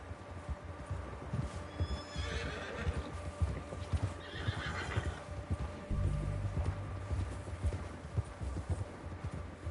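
Horse hooves clip-clop steadily in Red Dead Redemption 2, with a loud whinnying neigh breaking through midway, all under a low game soundscape and no talk.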